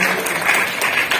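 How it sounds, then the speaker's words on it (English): Audience applause fills a ceremony hall, a steady dense clatter of many hands clapping at close range for just over a second, with no break in the sound. "Round of applause, guys."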